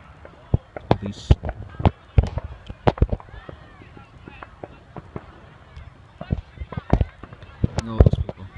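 Fireworks boom and crackle in the distance over a neighborhood where a crowd has gathered and police are present, firing as irregular sharp pops and thumps throughout, some stronger bursts standing out from the background murmur.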